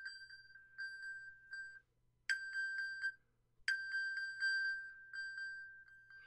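Phone alarm ringing in a quiet room: a repeating bright electronic ding-tone pattern in short bursts, pausing briefly and then resuming, clear and fairly close with no talk over it.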